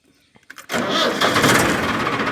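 A tractor engine cranks and catches after a near-silent moment, then runs loud and rough at close range.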